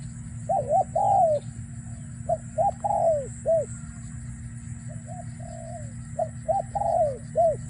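A dove coos in repeated short phrases with irregular pauses, clear and moderately close over a steady low background hum.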